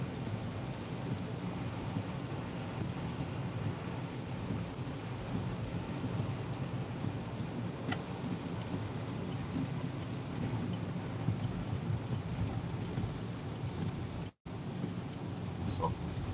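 Steady rain with thunder, heard from inside a car during a delivery drive, a constant hiss of rain on the surface with a few faint cracks and low rumbles underneath.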